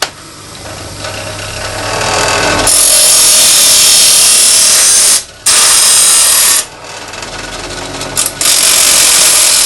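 A steel scraper made from old saw steel is ground on a bench grinder with a loud, bright, sustained grinding hiss. Short breaks split the passes, and the grinder whirs alone before and between them, with no voices.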